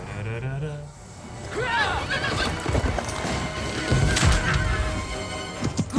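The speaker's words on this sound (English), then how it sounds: "She has a horse." A horse whinnies close by amid clattering hooves and bumping noise, with people's voices mixed in.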